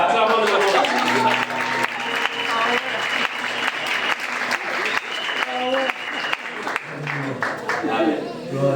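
A church congregation applauding continuously and loudly in a hall, dense clapping filling the room while voices call out over it.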